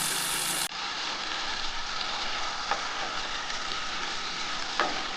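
Poppy seed and green chilli paste goes into a hot frying pan for jhinge aloo posto, with ridge gourd and potato, and gives a strong, steady close sizzle with a couple of faint utensil scrapes.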